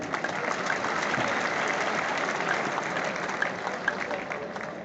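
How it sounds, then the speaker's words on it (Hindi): An audience at a Jat conference in Talkatora Stadium, New Delhi, claps loudly and continuously, a thick wash of hands at a constant level with no pauses. "एक बार जोरदार तालियां बजा दीजिए"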